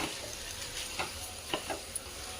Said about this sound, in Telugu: రైస్ వేసుకొని మంచిగా కలుపుకోవాలి